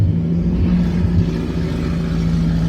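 A Volkswagen Fusca (Beetle) with a 1900 engine and variable venturi carburetor revs up steadily from inside the car, a loud, continuous low rumble with a strong engine drone and no talk.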